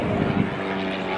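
A plane's engine roars steadily and loudly during an aerobatic display at the 2024 Evening of Aviation Airshow. The dense drone stays constant throughout, with no clear speech over it.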